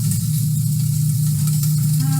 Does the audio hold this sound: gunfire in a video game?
no